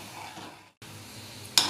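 Fasting kachori fry on a slow flame, a soft steady sizzle of oil broken by a brief silent gap, then resuming with a sudden brighter crackle near the end.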